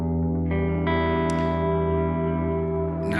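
Sustained electric guitar chords run through a BOSS GT-1000 with its preamp block on and a ToneX pedal, sounding loud, distorted and effect-laden, with a fresh strum partway and another at the end.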